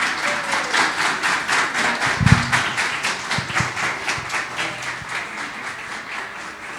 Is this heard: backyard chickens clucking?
no